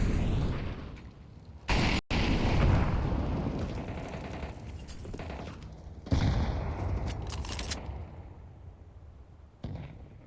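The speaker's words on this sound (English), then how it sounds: "great nade onto Virtuoso to start things off" Counter-Strike match in an ESL Challenger League game: a grenade blast followed by sustained bursts of close, loud gunfire, with sharp sudden hits and rattling volleys that thin out toward the end.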